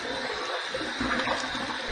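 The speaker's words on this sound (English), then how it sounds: "I wanted to throw some extra water in the sink from draining it" Water from a bathroom sink tap runs steadily, with a close, continuous splashing rush and no talk.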